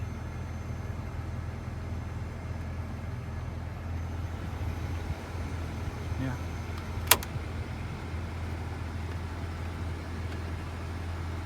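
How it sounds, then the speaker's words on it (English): A 1993 Ford F-150 pickup idling with a noisy power steering pump, a steady low engine drone and faint whine held evenly throughout, with a single brief sharp click partway through. "So power steering pump's a bit noisy."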